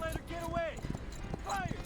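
In the video game Reverse: 1999, a horse gallops at full speed, rhythmic clip-clop hoofbeats running under a narrator's voice.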